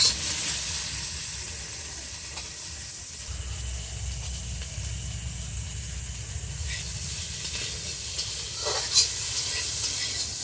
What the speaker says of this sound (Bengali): চিংড়ি মাছটাও মোটামুটি আমার ভাজা হয়ে গেছে।